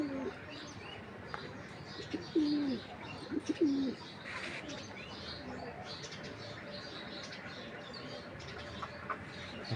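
Domestic pigeons in a loft, including young squabs and older birds, giving a few soft low coos in short bursts over a quiet hum, with faint chirps around them.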